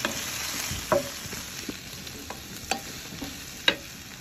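Galunggong fish and vegetables fry in a Saladmaster pan with a soft, steady sizzle, punctuated by a few sharp utensil taps and scrapes.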